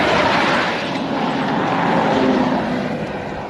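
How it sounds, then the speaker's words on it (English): Loud continuous roar of cars and a truck passing close by on a ribbed road surface, a broad rumbling drone that swells and eases slightly over a few seconds. "it makes the cars so loud when they drive by"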